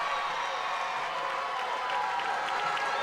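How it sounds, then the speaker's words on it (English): A baseball crowd at Alumni Field roars in a sustained wash of cheering and applause after a stand-up triple during a Keene SwampBats home game, steady and moderately loud from a distance. "listen to that crowd here at Alumni Field erupt for Alex Alisea"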